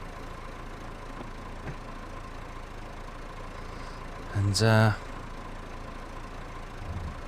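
Tractor ploughing in Farming Simulator 22, a steady low engine drone throughout with a short, louder mechanical burst midway; someone talks over it.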